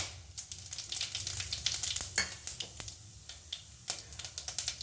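Cumin seeds fry in hot oil alongside cinnamon and cloves, crackling with quick, irregular pops and spits over a soft sizzle, heard up close in a quiet kitchen.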